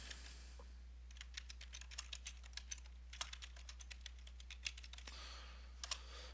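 Quick bursts of keystrokes on a computer keyboard while typing an email address into a registration form, soft irregular clicks in short runs over a faint steady hum.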